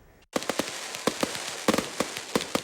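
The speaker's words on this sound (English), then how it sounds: "Not everyone likes the sound of fireworks." Fireworks bursting in a neighborhood at night: a rapid, irregular string of sharp, loud cracks and pops, about a dozen in under three seconds, starting abruptly after a brief quiet moment.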